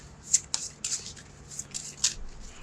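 A deck of playing cards shuffled by hand during a solo tabletop card game, with several quick, crisp riffle bursts spaced irregularly, close and fairly quiet with no talking.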